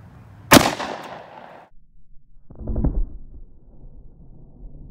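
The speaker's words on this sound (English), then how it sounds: "the Smith & Wesson 357 with the actual 357 Magnum round in it" A Smith & Wesson .357 revolver loaded with a .357 Magnum hollow-point round fires one sharp, loud shot that decays slowly, followed by a duller thud a couple of seconds later.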